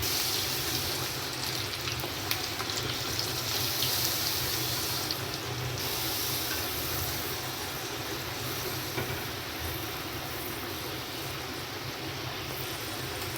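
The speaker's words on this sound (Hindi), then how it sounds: "देखिए 5 से 7 मिनट के लिए फ्राई करना है इनको भी।" French fries deep frying in hot oil at home, a steady dense sizzle and bubbling that holds evenly throughout with no talk.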